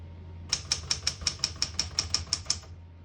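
Typing on a 1968 Smith-Corona Super Sterling portable typewriter: about eleven crisp, evenly spaced key strikes in a steady rhythm, close and clear over a low background hum.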